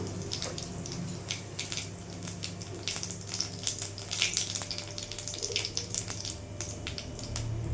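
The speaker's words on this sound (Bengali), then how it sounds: "তেলের মধ্যে জিরে ফোড়ন দিয়ে দেবো গোটা জিরে ফোড়নে দিয়ে দিলাম" Whole cumin seeds fry in hot oil, giving a close, steady crackling sizzle with quick popping bursts throughout and no talk.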